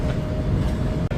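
Inside a moving train carriage in Malaysia, a loud continuous rumble and rattle runs throughout, with a brief dip near the end and no talk.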